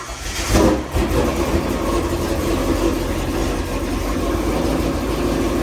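Supercharged Ford Mustang GT V8 with a Whipple supercharger and 100,000 miles cranks and catches with a brief loud burst, then settles into a steady, rumbling idle close by.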